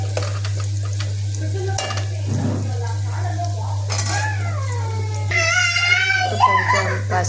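Bitter gourd pieces with turmeric and chili powder fry in oil in a home kitchen pan, a low steady sizzle under a voice, with clinks of a spoon against the pan and someone speaking briefly.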